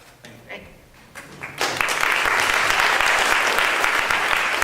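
A conference audience breaks into sustained applause that swells after a few quieter claps and holds steady and full, with faint voices at the start.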